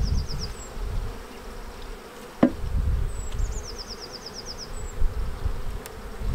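Honey bees buzzing around a beehive during an April hive inspection, a steady low hum with occasional closer buzzing passes, a sharp knock of hive equipment, and high chirping birds in the background.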